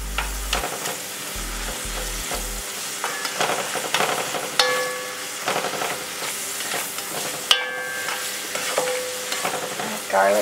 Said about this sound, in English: I'm going to add a little bit of olive oil to get some of the onion and the garlic going